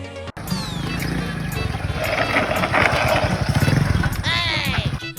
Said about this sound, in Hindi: इरफान भाई, ये आपकी मोटरसाइकिल क्यों लेके गया?